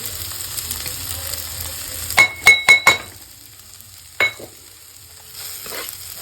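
A sizzling tadka for fish, seasoned with salt and chili, is stirred in a pan: a low steady fry with a quick cluster of sharp metallic clinks, then one more clink, close by and without speech.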